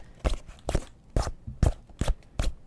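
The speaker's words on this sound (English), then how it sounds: "this is just my fingernail on a like rain jacket" A fingernail scratching across a rain jacket, used as raw material for a sci-fi sniper rifle sound: six short, close, crisp rasping strokes in an uneven rhythm with brief quiet gaps between.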